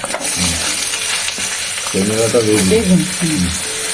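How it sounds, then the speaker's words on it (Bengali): A dried red chili and pieces of drumstick go into hot oil for frying, giving a steady close sizzle with some stirring scrapes, while a voice talks over it. "একটা শুকনো লঙ্কা দিচ্ছি হ্যাঁ আর এই যে সজনে ডাটা"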